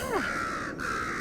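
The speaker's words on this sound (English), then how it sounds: "the raven stood on the ferns," A raven gives one harsh, drawn-out caw that starts with a rising rasp, breaks briefly, then carries on. The call is close and loud over a faint steady background.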